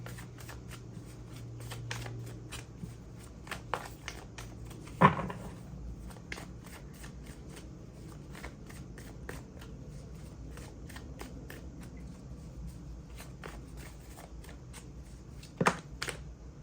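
Tarot cards being shuffled by hand, a steady run of soft riffling clicks and flicks over about sixteen seconds, with two sharper slaps near the start and end, close and fairly quiet with no voice.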